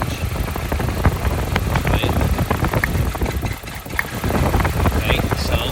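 A Nissan Silvia S13 CA18DET car engine idles roughly with a misfire, an uneven, stumbling rhythm and occasional knocks, close by, while someone speaks over it.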